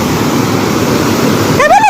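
Heavy rushing water after a downpour roars steadily and close, a dense broadband gush like a small torrent, with a brief whistling or voice-like sweep near the end.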